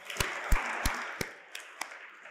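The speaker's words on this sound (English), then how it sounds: "I think they deserve a clap." A handful of slow, separate claps from a small audience at an awards session, sharp and fairly close, with a soft murmur between them before they trail off.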